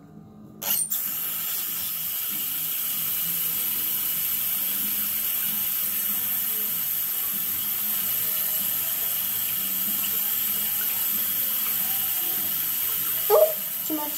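Water runs steadily into a container holding glitter for several seconds after a brief clatter, ending with a small knock near the end.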